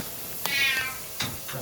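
A cat being bathed lets out a long, close meow, followed by brief splashy noises and a second shorter cry.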